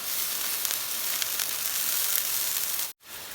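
Steady loud sizzling from a seasoned dish being stir-fried in a pan, a continuous bright hiss with small crackles, cut off abruptly near the end before resuming.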